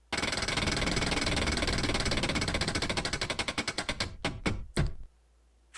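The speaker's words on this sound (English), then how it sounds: "let's spin the wheel and see how long we're reading for today" A prize wheel spun at random for a number, ticking in a fast, dense clatter that gradually slows into separate clicks and stops after a few final ticks; loud and close, with no talk.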